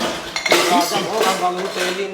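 Steel plates, glasses and utensils clink and clatter as they are handled and passed around a household kitchen, a busy run of bright metallic clinks over about two seconds with faint voices underneath.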